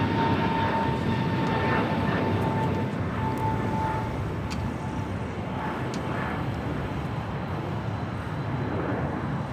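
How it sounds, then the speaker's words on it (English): A Lufthansa heavy jet takes off from runway 25 right at LAX, a steady, loud engine roar that holds throughout with little change in strength. "Should be the next heavy takeoff on 25 right."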